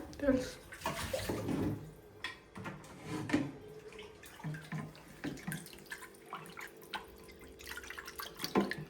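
Fish pieces are washed under a running kitchen tap in a Telugu home kitchen, with splashing, dripping water and intermittent handling, while a voice talks faintly now and then.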